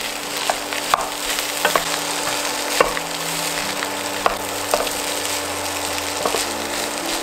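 Leftovers fry in a pan with a steady sizzle, while a utensil scrapes and stirs through them and makes scattered clicks and knocks close by.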